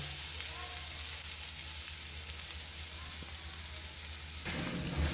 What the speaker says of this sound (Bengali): মশলাটা তো আমার ভাজা ভাজা হয়ে গেছে